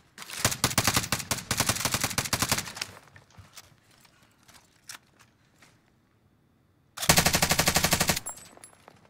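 Automatic rifle fire in the Call of Duty Warzone video game, a loud sustained burst of rapid shots, a quieter lull with faint scattered noises, then another dense, close burst of rapid gunfire.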